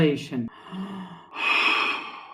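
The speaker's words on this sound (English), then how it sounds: "Each one of these groups will be related with one sound, which is the breathing." A slow breathing cycle is voiced by a man: an audible sighing exhale, a short quiet hold, then a long breathy airy rush, close and clear.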